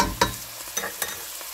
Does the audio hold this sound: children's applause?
no